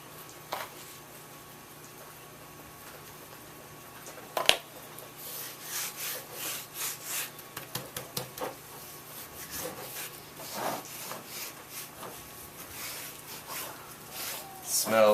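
Hands rub a cherry dry rub into baby back ribs with soft, rhythmic rasping and patting strokes up close, after a brief clunk, while someone talks over it.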